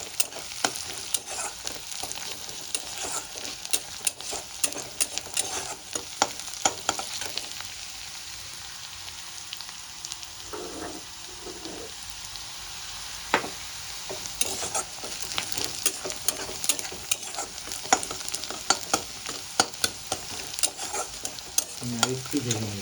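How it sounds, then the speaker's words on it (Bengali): Onions sizzling in hot oil in a pan while being stirred, a steady close frying hiss broken by repeated scraping clicks of the spoon, with no voices. "পেঁয়াজটা আমার লাল লাল করে ভাজা হয়েছে, দেখুন কালারটা চেঞ্জ হয়েছে।"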